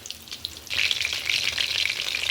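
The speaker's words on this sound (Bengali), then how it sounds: "এবার একটা একটা করে বড়া আমি ভেজে নেব।" Stuffed spiny gourd (kakrol) fritters are dropped one by one into hot oil, and a quiet bubbling quickly swells into a steady, dense sizzle close up, with no talking.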